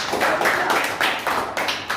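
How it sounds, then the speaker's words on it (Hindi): Students in a classroom clap for a classmate, with several bursts of close, uneven clapping that rise and fade in quick groups. "ताली जाओ उसके लिए, ताली बजा दो"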